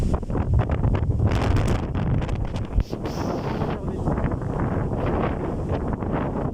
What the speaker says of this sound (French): Alors, il y a du vent, ça, il y a beaucoup de vent.